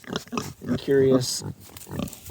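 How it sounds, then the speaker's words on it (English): Pigs grunt in a farm pen, close and loud in brief bursts, while a person talks over them nearby. "I'm sitting in the pen with the pigs."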